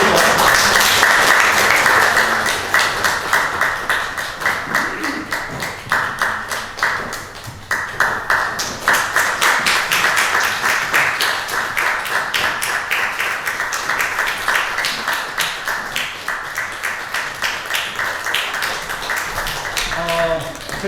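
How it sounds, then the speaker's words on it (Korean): Applause from a church congregation during a Sunday service, a dense steady clapping that fills the room for about twenty seconds at an even level, with a few voices faintly underneath. "박수."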